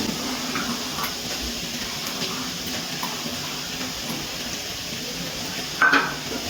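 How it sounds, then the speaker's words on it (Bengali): Beetroot, carrot, potato and green peas with green chillies fry in a pan and are stirred, a steady soft sizzle with faint scraping throughout and one brief clink of the spoon near the end. "এবার আবারও নাড়াচাড়া করে একটুখানি ভেজে নেব মটরশুঁটি সব কিছুর সাথে।"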